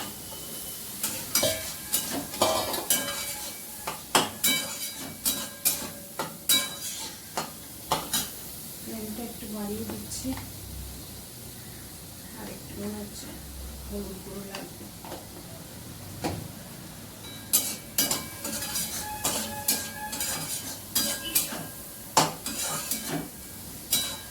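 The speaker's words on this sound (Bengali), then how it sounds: "এবার দিয়ে দেবো চিংড়ি মাছ" Shrimp sizzling in a frying pan, with repeated metallic clinks and scrapes of stirring against the pan over a soft continuous fry, close and fairly quiet.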